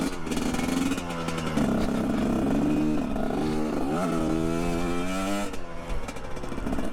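A GPX Moto TSE250R motorcycle on the road, its single engine droning loud and close with rising and falling revs, plus wind rush throughout.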